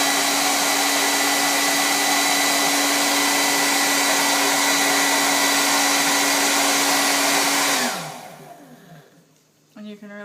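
Blow dryer heating a Jamberry nail wrap, a loud, steady whooshing hum close by that winds down and cuts off near the end, followed by faint handling noise.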